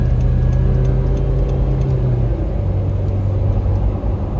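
A third-generation Toyota 4Runner on new tires cruising at freeway speed, heard from inside: a steady low road rumble and engine drone with faint wind, no talking.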